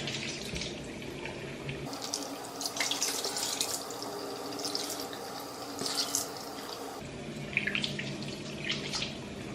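Water runs from a bathroom tap as someone washes their face, a steady close splashing stream with brief breaks and changes as hands move through the flow.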